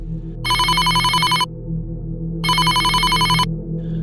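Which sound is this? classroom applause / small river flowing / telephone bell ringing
telephone bell ringing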